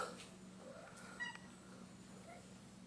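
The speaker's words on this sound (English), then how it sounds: "Let's talk to the stray cat down here, Misty." A stray cat gives a few short meows at close range over a steady low background hum, with a faint voice briefly present.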